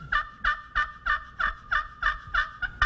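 A three-surface turkey call played on its crystal surface gives a rapid series of about nine raspy yelps in an even rhythm, close and clear with no talk over it.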